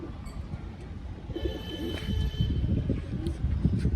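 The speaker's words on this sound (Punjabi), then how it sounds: "ਆ ਰਿਹਾ ਕਬੂਤਰ ਖੱਟੀਆਂ ਅੱਖਾਂ ਦਾ" Pigeons in a keeper's flock give low, repeated cooing calls close by, rising and falling over steady background noise with no talking.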